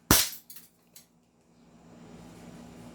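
A CZ Shadow 2 pistol fires a single sharp, loud shot over a chronograph, followed by a couple of quick metallic rattles and echoes that fade into low background hum.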